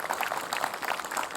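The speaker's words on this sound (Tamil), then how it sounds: "குழந்தைக்கு ஒரு பெரிய கைத்தட்டல் கொடுக்கலாம்ல" A studio audience at a children's fun show claps for a young child singer, a brief, dense burst of applause that carries on steadily for its whole short length.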